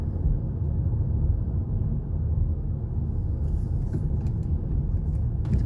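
A car driving along a dusty road with heavy trucks around, giving a steady, loud low rumble of engine and tyre noise with no break, plus faint higher rattles toward the end.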